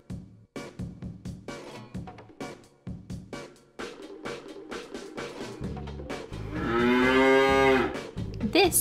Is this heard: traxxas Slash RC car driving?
no